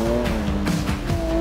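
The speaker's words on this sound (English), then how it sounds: "I'm driving in the new GT4 RS" Porsche GT4 RS driving on the GP Ice Race track at Zell am See, a loud, steady engine drone with tonal whine and tire noise on ice, close and continuous throughout.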